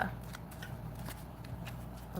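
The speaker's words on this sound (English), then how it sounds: "Let's give these a good shuffle." A deck of cards being shuffled during a tarot-style reading, quick repeated riffling bursts close up and quiet, continuing for a couple of seconds.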